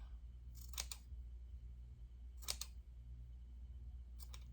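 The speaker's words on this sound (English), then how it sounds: "I'm just going to come and take my scissors and then just trim this off like that." Scissors snip through African ethnic-print fabric while a necklace is trimmed, giving three crisp, close clicks spaced about two seconds apart over a low steady hum, with no talking.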